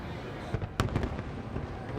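Fireworks bursting at a large professional display, with a sharp loud crack followed by several dull thumps and crackles over steady crowd and outdoor rumble.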